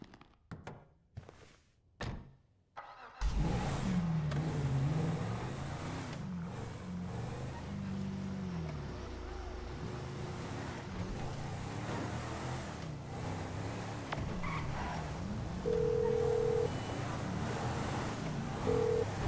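Car in GTA 5: a few sharp thunks like doors and switches, then an engine starts and runs steadily while driving, with rising and falling revs and a tire screech or squeal partway through, no voices.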